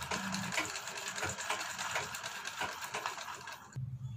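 Sewing machine running steadily while stitching the back neck seam of a garment, a continuous close mechanical whir that stops abruptly near the end.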